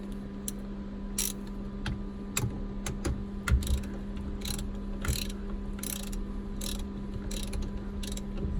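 A ratchet clicks as the steering wheel nut is tightened during a Tacoma leather steering wheel swap into a Toyota Tundra, with irregular close clicks and taps over a steady low hum, no talking.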